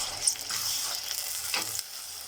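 One large chopped tomato frying in oil in a clay pot, a soft, fairly quiet crackling sizzle with a few brighter pops and spits, close by and with no talking.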